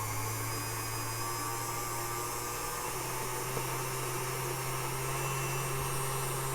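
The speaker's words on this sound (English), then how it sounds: "we're just going to mix it until we reach the stiff peak stage" An electric mixer whips meringue toward stiff peaks, a steady loud whirring motor hum that holds unchanged throughout with no pauses.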